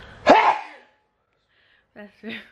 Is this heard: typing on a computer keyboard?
no